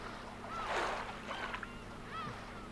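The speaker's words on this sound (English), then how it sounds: "Gotta hear the seagulls." Seagulls call in short, fairly faint cries over a steady background hum, with one louder squawk early and a few weaker calls after it.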